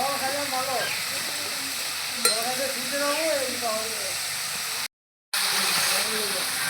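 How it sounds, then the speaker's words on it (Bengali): Nimki dough snacks deep-fry in hot oil with a steady, close sizzling hiss, a brief clink partway through and a short gap of silence near the end. "কত সুন্দর ভাজা হয়ে যাচ্ছে"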